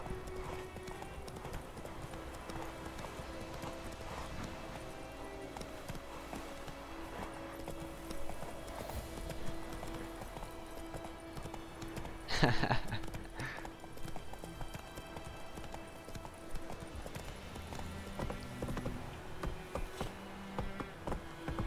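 Steady rhythmic clip-clop of horse hooves in the video game The Witcher 3: Wild Hunt plays throughout at moderate volume, with a brief louder burst midway and faint buzzing in the background.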